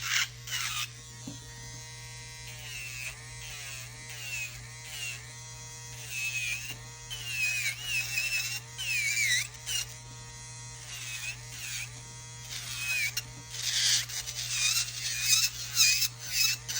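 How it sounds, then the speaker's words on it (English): High-pitched electric nail drill with a carbide bit grinding off excess acrylic on a fingernail, whining steadily with wavering pitch as pressure shifts, close and continuous with no talking. "I want to make sure I'm using this carbide to take off as much of the excess acrylic as possible"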